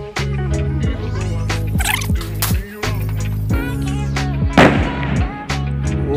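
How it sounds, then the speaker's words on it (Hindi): Firecrackers set off during a Diwali celebration with friends outdoors at night, a rapid string of sharp, loud cracks and bangs going off close by, with barely any voices. "बॉम्ब फोड़ लेते हैं हम लोग"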